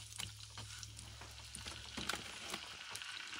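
Beef short ribs searing in a hot pan over medium-high heat, a steady broadband sizzle with faint crackles and pops running throughout at moderate loudness, with no talking.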